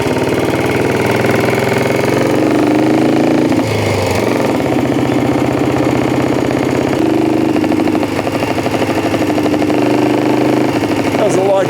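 A high-geared race motorcycle is ridden slowly through town, its engine droning loud and close with a steady, chugging mechanical note and small shifts in pitch as it labours at low speed.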